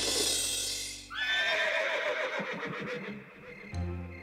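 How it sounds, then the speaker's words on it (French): A horse gives one long, loud, shrill whinny that falls and quavers as it fades, followed by a soft snort, with no talk. "c'était un hennissement qui devait venir de la prairie"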